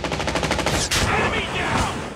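Loud, rapid automatic gunfire fills a video game match, with a fast burst of shots up close followed by a heavy blast and its lingering rumble.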